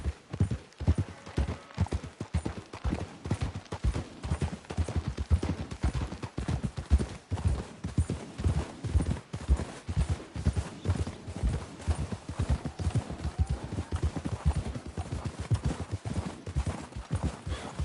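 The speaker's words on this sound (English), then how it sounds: "We should leave the horses." Video game horse hooves clip-clop in a quick, steady rhythm from start to finish, loud and close, with no talking.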